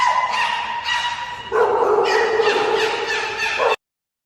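A dog barks and yips repeatedly in a played-back recording, sharp tonal calls in quick succession that grow louder and more urgent halfway through, then cut off abruptly.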